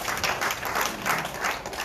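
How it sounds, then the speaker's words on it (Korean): A seated audience claps at a church seminar, a continuous, moderately distant patter of many hands with slight swells and no talking on top. "우리 박수 한번 쳐드립시다"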